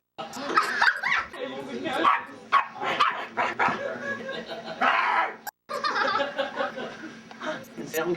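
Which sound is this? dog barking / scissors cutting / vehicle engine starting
dog barking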